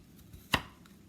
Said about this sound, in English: just pretty much slicing them and then dicing them